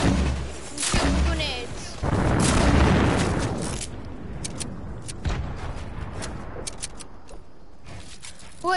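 Grenades going off in Fortnite Season 10: heavy booming blasts in quick succession, loud and close, with crackling debris and scattered sharp pops trailing after.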